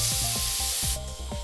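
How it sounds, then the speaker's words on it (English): An Aztek A470 double-action airbrush sprays paint with a steady broadband hiss, close and continuous, dropping slightly in strength partway through as the trigger is eased back. "The Aztek is of course a double action, so the more you spray back, the more paint you get coming through."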